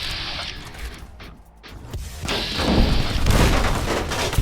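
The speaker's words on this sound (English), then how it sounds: "Who the hell's throwing grenades?" Grenade blasts and gunfire during an ambush in the game Fallout: New Vegas, a dense, loud stretch of booms and crashing impacts that builds toward the end, with no clear talk.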